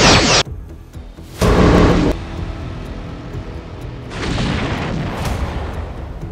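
Heavy booming blasts of phaser fire and explosions in a starship battle, three loud bursts separated by quieter rumbling stretches, with no voices.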